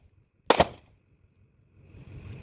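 A Smith & Wesson M&P Shield Plus pistol fired a couple of times in quick succession, held with a loose wrist, two sharp close shots followed by quiet.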